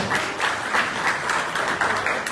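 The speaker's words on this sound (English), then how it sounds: "please give a big round of applause for Madam Her Excellence Mr. Vijay." An audience gives a big round of applause at a formal event, a loud, continuous patter of many clapping hands with rhythmic surges.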